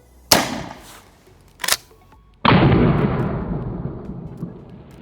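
Three sharp shotgun shots firing rubber bullets, the last one louder and followed by a long rumbling decay, with short quiet gaps between the first shots.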